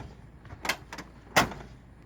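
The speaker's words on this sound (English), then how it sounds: "I'll close my door at this time." The door of a UPS truck slides and shuts, with a couple of quick rattling scrapes followed by a sharper closing thud, near and moderately loud.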